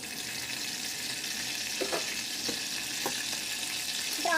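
Whole spices and bay leaf fry in hot oil for chicken biryani, a soft steady sizzle with a few light taps and stirs, rising slightly at the very end.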